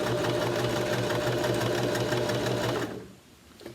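Sewing machine stitching fabric slowly, one stitch at a time, a close steady mechanical whir and hum that runs for nearly three seconds, then abruptly stops into near silence.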